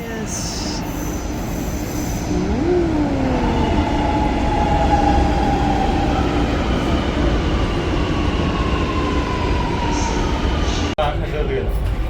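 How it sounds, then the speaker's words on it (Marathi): A metro train in Lucknow rumbles steadily with the continuous roar of wheels on rails and occasional high squeals, loud and near throughout. "आणि ही आहे मेट्रो आणि आम्ही चाललो आता मेट्रो"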